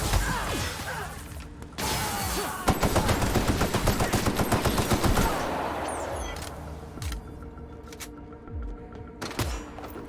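Rapid automatic gunfire in The Outer Worlds video game, dense bursts of shots with a long rattling volley in the middle, loud and close, followed by scattered impacts and smaller shots.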